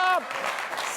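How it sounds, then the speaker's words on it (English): Studio audience applause on a late-night comedy show, a dense crowd wash filling the clip after a brief voice at the start. "Stop with the spontaneous applause."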